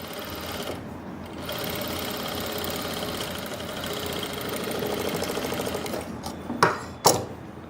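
A sewing machine runs a top stitch along a pocket edge in a steady, close, continuous mechanical whir lasting several seconds. It ends with a couple of sharp clacks as it stops.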